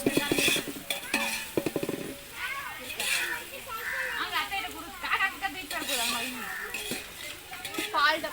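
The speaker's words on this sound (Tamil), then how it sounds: "இது நல்லா ஒரு கோல்டன் ப்ரௌன் ஆகிற வரைக்கும் வதக்கணும்." About a kilogram of onions being sautéed for biryani at an outdoor cooking session, with a ladle scraping and clanking against a large metal pot over a soft sizzle while a person talks throughout.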